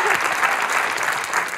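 Steady clapping from a TV studio audience, a dense even patter of many hands throughout the short stretch.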